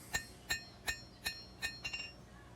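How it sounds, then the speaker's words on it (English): A hammer strikes a steel blade being forged from scrap to form a bevel, with five evenly spaced ringing blows and then a quick flurry of three lighter taps, close and clear. "Now we're going to start hammering in the bevel."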